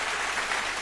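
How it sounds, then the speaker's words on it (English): A short burst of audience applause, an even patter of many hands clapping close by for under a second, with no talk over it. "Can we give that a really quick, like, little clap?"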